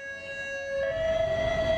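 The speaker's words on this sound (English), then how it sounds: "The current siren and the proposed new so-called high-low siren, which European countries have been using for years." An emergency siren of the European high-low type sounds steadily, a loud tone stepping from one pitch to another about halfway through, with faint road rumble underneath.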